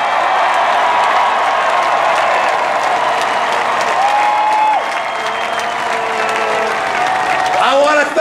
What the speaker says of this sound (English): how about another big round of applause to the 2010 world champion San Francisco Giants